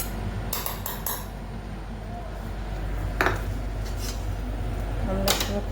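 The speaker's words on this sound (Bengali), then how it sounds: "ডিমটা পেঁয়াজ কুচি, লঙ্কা কুচি, একটু লবণ দিয়ে ডিমটা ফেটিয়ে ডিমের অমলেটটা করবো" Eggs with chopped onion, chilli and salt being beaten in a bowl for an omelette, heard as a few sparse clinks and taps of utensil against dish over a low, steady background hum.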